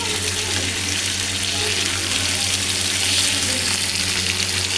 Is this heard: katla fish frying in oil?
yes